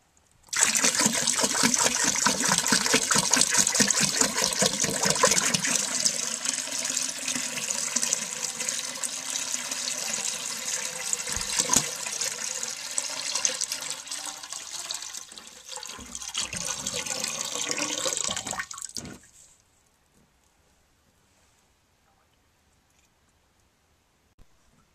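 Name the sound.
1948 Standard toilet refill tube filling a jug with water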